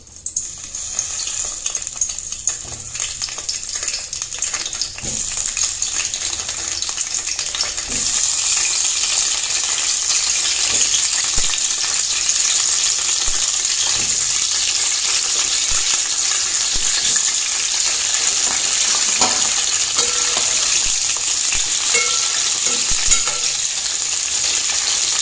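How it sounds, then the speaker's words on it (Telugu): Brinjals drop into hot oil in a kadai for stuffed eggplant curry; a lighter sizzle jumps to a loud, continuous frying hiss that holds steady with faint crackles, no talking. "ఆయిల్ హీట్ అయినాక దీనిలోకి వంకాయలు వేసేసుకోవాలి."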